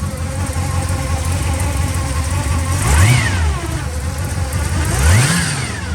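A 1969 Pontiac GTO clone with a 400 engine and an Edelbrock carburetor idles with a loud, lumpy note close by. It gives two sharp revs that rise and fall, with no talking.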